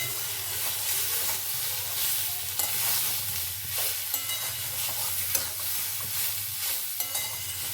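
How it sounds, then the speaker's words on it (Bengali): Papaya pieces and small homegrown tomatoes frying in a pan, stirred with a steady hissing sizzle and scraping strokes, continuous and close with no voices. "এইভাবে আমি একটু নাড়াচাড়া করে নেব"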